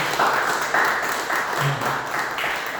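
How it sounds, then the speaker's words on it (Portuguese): A church congregation at a praise, worship and communion service applauds its pastor with a dense, steady round of clapping filling the room without pause. "Uma salva de palmas para o nosso pastor."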